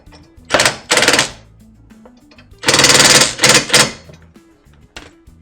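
A power tool drives a threaded bolt with a lock washer into a Mojo Moto Hauler motorcycle jack hitch carrier, sounding as several loud rattling bursts of hammering impacts, separated by short quiet pauses, close up.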